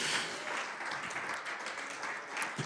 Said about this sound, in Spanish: Puedes darle una ofrenda de palmas al Señor.